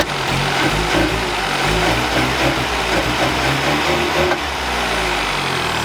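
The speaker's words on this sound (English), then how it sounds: "I'm gonna let it idle for a second and just see what happens." A Volkswagen Golf engine idles loudly and close, a rough rumbling hum that wavers and stumbles unevenly as it breaks up.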